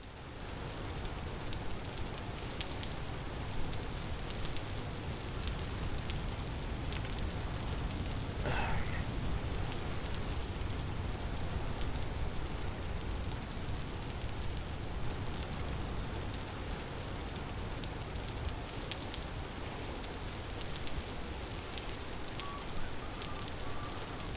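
Rain falls steadily in the survival video game Vintage Story, a dense, even hiss of drops that continues loud and unbroken throughout.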